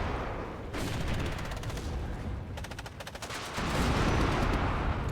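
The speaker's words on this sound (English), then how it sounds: "So this tank is getting hit from all sides." Rapid gunfire rattles against a tank in the WARNO war strategy game, with bursts of machine-gun fire overlapping heavier impacts, fairly loud and continuous, and a pause before another burst.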